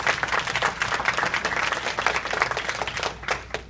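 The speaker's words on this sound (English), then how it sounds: "Give them a hand." Steady, dense applause from a crowd fills the whole stretch, many hands clapping at once without pause.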